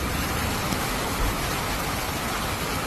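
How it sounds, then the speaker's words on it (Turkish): Heavy summer rain pours down in Norway, a dense, even hiss of drops hitting surfaces with no break, close and loud. "Norveç'te yaz yağmurları."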